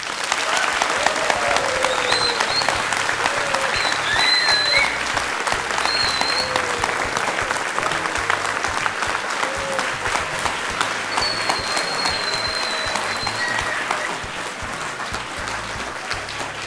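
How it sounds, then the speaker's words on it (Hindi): Sustained audience applause fills a television studio as Union Minister Hardeep Singh Puri is welcomed onto the Aap Ki Adalat courtroom-style show, a dense, steady wash of clapping that eases slightly in the last few seconds. "और ये तालियां इसी तरह बजती रहे"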